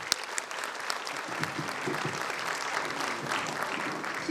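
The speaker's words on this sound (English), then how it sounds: "Please give a big round of applause," Audience applause at a medical institute's first convocation ceremony as a dean is felicitated, a steady wash of many hands clapping, fairly distant and moderate in level, continuing throughout without speech.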